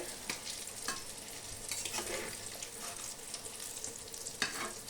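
Eggplant slices for begun bhaja fry in a pan with a steady, close sizzle, broken by a few sharp clicks and scrapes as the slices are turned, with no talking.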